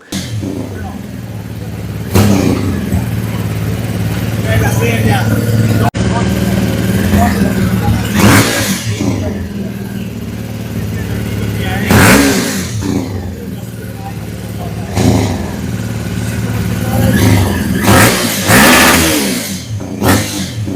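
A loud BMW F450GS Concept motorcycle engine with a 125-degree firing order roars and rises repeatedly in revving bursts, with several sharp throttle blips over a rumbling idle, close by.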